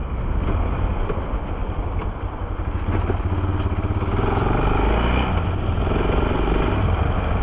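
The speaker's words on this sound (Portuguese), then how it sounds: "Tô adorando andar com essa moto desse jeito," A motorcycle rides along at steady speed, its engine rumble blended with heavy wind buffeting the microphone, loud and continuous throughout with no break.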